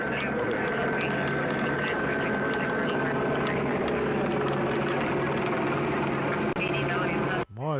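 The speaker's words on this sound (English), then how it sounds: "That sounds like a news chopper." A news helicopter hovers overhead above a downtown Los Angeles street protest, its rotor producing a constant dense rumble and chop that blankets the scene while people talk nearby.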